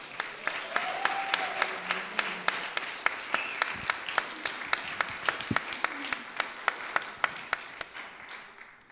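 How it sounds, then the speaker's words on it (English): An audience applauds at a Unity church service, crisp individual claps repeating in a fairly regular rhythm for several seconds, fairly close and clear, with faint voices beneath. "So another round of applause,"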